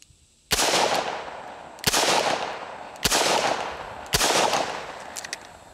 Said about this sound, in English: and let's just make a couple of shots here.